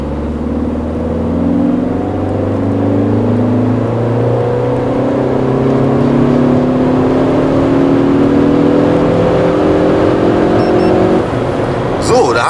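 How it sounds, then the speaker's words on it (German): A Ford Focus ST with an aftermarket exhaust and tuned software accelerates hard in fourth gear, the engine note rising steadily in a loud, close, sustained pull from inside the car, with someone speaking German over it. "vierter Gang. Und wir geben Gas."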